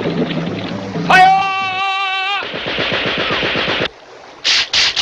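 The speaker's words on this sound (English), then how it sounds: "I'll man the Gatling gun." A cartoon Gatling gun fires in rapid, evenly spaced cracks for over a second, loud and close, after a bright musical flourish and rising tone. Brief sharp hits follow at the end.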